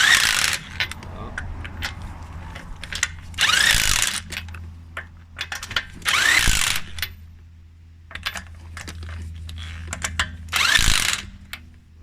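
A hand ratchet tightens the wheel nuts on a Nissan Qashqai during a winter tyre change, clicking in several separate bursts with quiet gaps between them.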